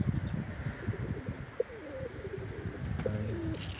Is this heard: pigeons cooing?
yes